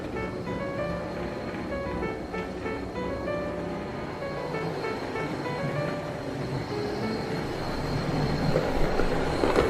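A Bachmann Midland 1P 0-4-4 model locomotive runs on a model railway track with a continuous close whirring motor and rolling rattle, steady and growing slightly louder toward the end.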